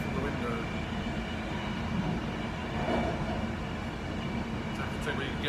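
Moving train heard from inside its onboard toilet, a continuous low rumble and rattling hum of the carriage with faint clicks near the end, steady and fairly loud.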